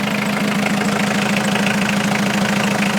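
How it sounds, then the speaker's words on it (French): A Peugeot engine with an exhaust leak runs steadily up close, a loud continuous idle with a rapid, regular ticking pulse throughout and no talking. "Il y a une fuite à échappement, non?"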